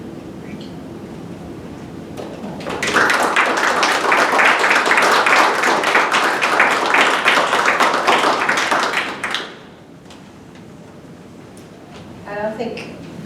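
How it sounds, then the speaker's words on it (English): An audience gives loud, dense applause at the end of a lecture on Kristallnacht and American democracy, holding steady for about six seconds before cutting off, followed by quiet room tone and a brief voice. "there was an applause for you"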